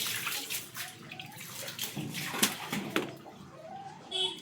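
Water runs steadily into a household tank, a continuous rushing splash with slight sloshing, close and moderately loud with no talk.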